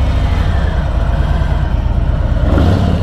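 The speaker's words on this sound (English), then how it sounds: "Let me give the exhaust a spin for you. That's a dead stock exhaust" A Harley-Davidson Freewheeler 114 with its stock exhaust revs in a loud, close, steady engine roar that swells slightly near the end, with no talk over it.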